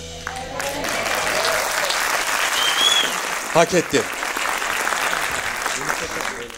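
An audience at a Turkish comedy awards show claps in a sustained wash of applause, with a brief spoken voice over it.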